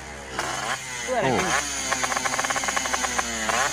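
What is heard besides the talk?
loud racing motorcycle exhaust sound, not allowed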